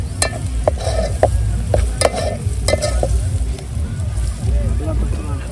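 A spoon stirs turmeric into curry frying in a pan, scraping and sizzling steadily at close range, with talk running over the cooking sounds.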